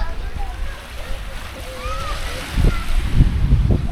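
Water splashes near and loud as someone bathes in the sea, choppy bursts over a steady wash of surf, with voices talking nearby.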